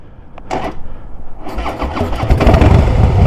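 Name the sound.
Harley-Davidson motorcycle engine starting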